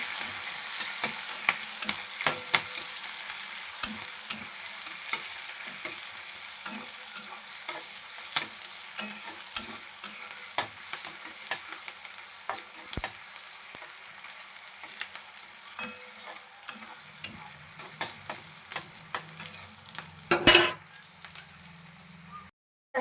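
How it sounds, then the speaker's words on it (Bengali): Onions and green chillies fry in hot oil with steady sizzling, occasional stirring scrapes and clinks, close and continuous until a final clatter near the end. "আমি পেঁয়াজ আর কাঁচা লঙ্কা দিয়ে দিয়েছি তেলের মধ্যে"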